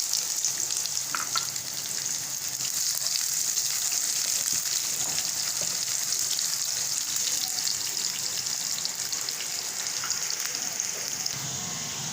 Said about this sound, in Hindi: इसके साथ ही हम प्याज डाल देंगे